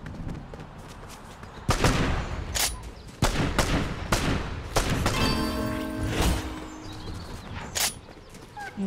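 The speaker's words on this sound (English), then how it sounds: "I sniped him." Gunfire in a Fortnite Zero Build squads match, with several sharp, loud shots spread across the span against a busy game background, including a single hard sniper-style crack.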